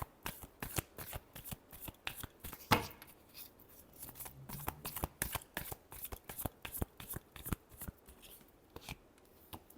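Tarot cards are shuffled by hand, close and crisp, in a rapid even run of riffling snaps and slaps lasting several seconds, with one louder flutter near the start.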